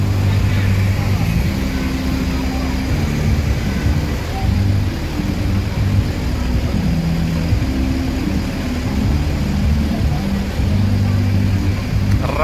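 Buses, including premium-chassis coaches from Padang and a tronton bus, roll along a busy road with a steady loud engine drone and passing traffic rumble, low throb throughout, voices faintly underneath.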